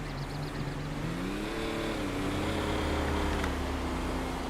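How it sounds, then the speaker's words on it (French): A car engine in GTA V on PS5 drones steadily and rises slightly in pitch as the vehicle draws closer, a continuous low rumble with no voices over it. "Le véhicule qui arrive, je crois."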